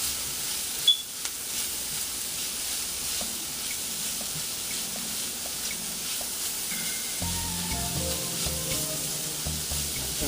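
Spices (sage, garlic powder, thyme, black pepper and salt) stirred into vegetables in a pan with the heat turned off, giving a steady soft sizzle and hiss throughout, with a few spoon scrapes and heavier stirring near the end.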